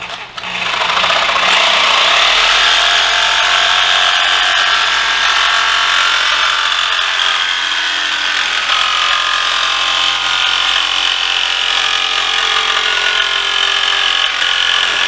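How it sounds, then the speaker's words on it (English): Jigsaw cutting plexiglass for the top of a mini helmet and trophy case, a loud, close, continuous buzzing whine with a harsh rasping edge that holds steady throughout. "I'm cutting the plexiglass for the top, and really one of the best things to use is a"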